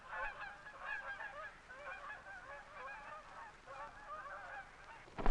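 A flock of Canada geese flying over the Gulf region in winter honk repeatedly in an overlapping chorus, with steady, moderately distant calls throughout and no voices.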